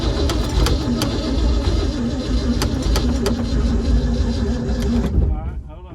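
The engine of a 1951 Ford F1 truck runs loud and rough right up close, a throbbing mid-pitched chug with voices talking over it, before cutting off abruptly near the end.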